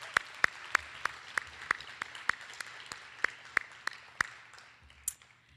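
Applause at a diploma ceremony sounds as sparse, distinct hand claps, about a dozen evenly spaced sharp smacks from only a few people in a quiet room, thinning out toward the end.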